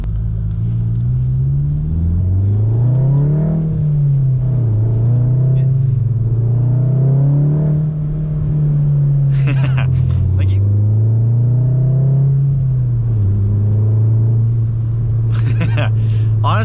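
A Volkswagen MK7 Golf R fitted with a Nameless Performance catback exhaust rumbles loud and close, its note rising and falling through several revs over a steady drone, with a few brief words spoken near the end.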